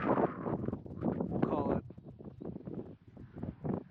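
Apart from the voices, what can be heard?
wind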